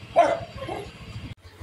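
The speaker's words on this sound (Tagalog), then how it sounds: "aso ng kapitbahay yan" A neighbor's dog gives a single short bark close by, followed by a faint low whine over a steady engine-like hum.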